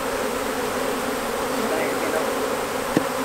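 Dense, continuous buzzing of many honey bees swarming around hives, a close and steady insect drone with a faint brief knock near the end.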